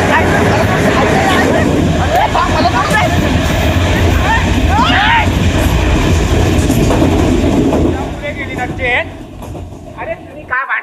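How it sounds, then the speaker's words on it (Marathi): A train arrival sound effect rumbles and clatters loudly on stage during a Marathi folk play, with crowd babble and voices over it, then fades near the end as people keep talking. "रांगेत ट्रेन आली रांगेत या."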